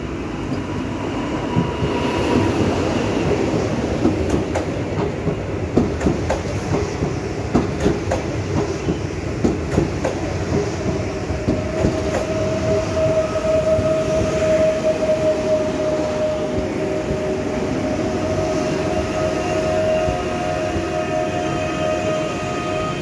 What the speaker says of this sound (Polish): Pociąg relacji Białystok-Bielsko-Biała kończący tutaj bieg.